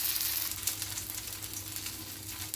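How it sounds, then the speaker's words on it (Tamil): A leftover-rice patty fries in oil on a tawa, a close, steady sizzling hiss with small crackles, brief and uninterrupted by speech. "இப்போ நான் இங்கே ஒரு தவா தான் வச்சுட்டுருக்கேன், அதில் கொஞ்சம் எண்ணெய் விட்டுருக்கேன் நடுப்புற, அதில் போட்டுடலாம்."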